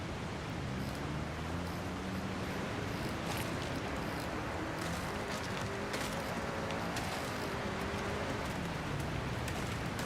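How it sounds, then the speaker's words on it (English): Steady broadband rushing of a waterfall in the Forza Horizon 6 racing game, a constant even wash of falling water with a faint low tonal hum underneath and no speech. "That very much sounds like a waterfall."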